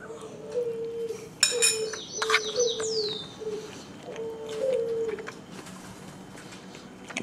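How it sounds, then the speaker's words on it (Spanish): Pigeons near a home kitchen coo in low, repeated, soft calls at moderate distance, mixed with faint chirps and light background noise. "Fucking palomas."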